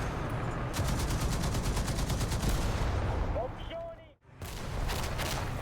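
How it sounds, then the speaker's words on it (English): A heavy machine gun on a Japanese vehicle fires in War Thunder, a rapid stream of shots over the steady rumble of battle, fairly close and loud. "luckily for us, we can actually kill the enemy with our heavy MG"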